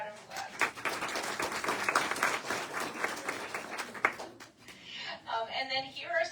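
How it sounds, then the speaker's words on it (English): Applause from an audience at a VIP fashion show in Geneseo, Illinois swells and continues for several seconds, a dense patter of clapping that fades toward the end as a voice speaks. "let's give Jan a round of applause."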